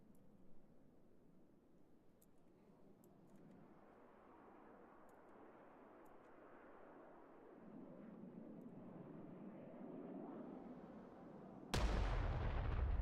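A missile precision strike in the video game Broken Arrow, a rising rumble of launch and flight building over several seconds before a sharp loud blast near the end, with no talk.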